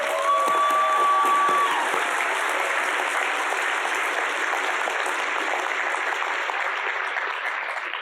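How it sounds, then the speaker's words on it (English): A graduation audience of family and friends claps steadily at a school ceremony, a dense, sustained roar of applause with a whistle near the start, tapering only slightly toward the end. "let's give our graduates a big round of applause"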